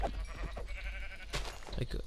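Sheep bleat in a modded Minecraft game, short bleats heard under someone talking, with faint background game sound throughout.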